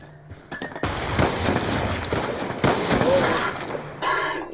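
Rapid bursts of wallbang gunfire from a competitive shooter game, loud and dense for most of the clip with sharp cracks, easing briefly near the end.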